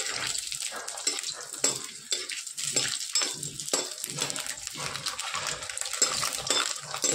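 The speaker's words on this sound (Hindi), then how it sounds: "अंडा डाल दिए, अब इसको भूनेंगे अच्छे से।" Eggs frying in hot oil in a pan for egg curry, a steady crackling, spitting sizzle with scattered pops and light utensil clinks, close and continuous throughout.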